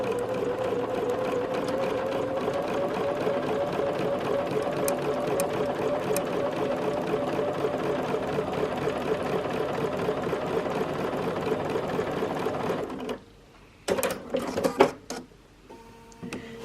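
A Bernina sewing machine stitching a quilt patchwork seam, a steady close whirring chatter for about thirteen seconds, then stopping with a few clicks and soft handling sounds.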